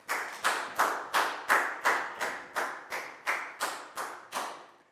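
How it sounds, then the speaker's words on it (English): A Year 4 maths class claps together for a classmate, about a dozen crisp, evenly spaced claps in unison, each ringing briefly in the room before the next. "a big round of applause for Bang Pon, please, guys"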